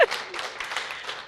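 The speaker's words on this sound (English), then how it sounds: "Can we just also have a round of applause for this gorgeous ensemble here" Audience applause at an opening reception, a steady broadband patter of many hands clapping throughout, moderately loud and continuous with no clear talk over it.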